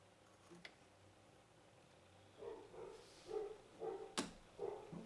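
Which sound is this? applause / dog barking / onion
dog barking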